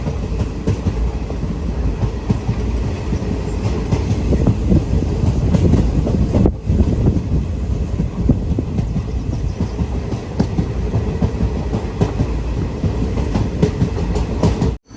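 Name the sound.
weekly express train running toward Puducherry station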